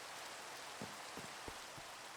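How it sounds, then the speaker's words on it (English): Steady rain falls in the Minecraft world, a dense even hiss of rainfall with a few soft low thuds, continuous and fairly quiet with no talking. "Let's go ahead and sleep real quick, get rid of this rain."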